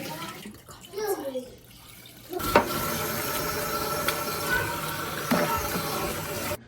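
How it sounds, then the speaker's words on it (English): Cold water poured into a big pot of partly rendered beef tallow, a steady rushing splash that begins abruptly and runs on, following a quieter stretch with a voice speaking. "We'll be adding some more water to the tallow because there's still so much unrendered fat in there."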